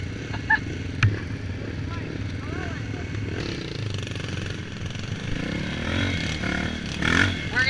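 Dirt bike engine revving and bouncing through a run of whoops on a Pine Barrens woodland trail, rising and falling throttle with rattling, scraping clatter, steady and close throughout.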